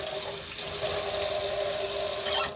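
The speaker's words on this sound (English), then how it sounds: "I'm rinsing out the reusable filter." Tap water runs steadily into a sink as a reusable coffee filter is rinsed, a close, continuous splashing rush that holds evenly and then cuts off at the end.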